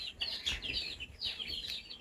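Faint chicken clucks and chirpy calls from a few birds, soft and somewhat distant, with a low rumble of background noise underneath.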